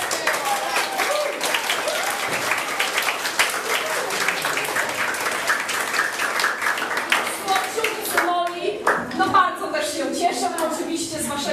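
An audience claps steadily for the Akademos choir, dense applause with some voices over it, thinning out near the end.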